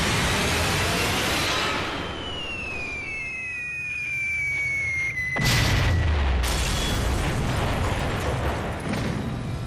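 A long descending whistle of falling bombs precedes a heavy, loud burst of explosions as World War II bombs strike a rail yard, with dense rumbling blasts continuing to the end.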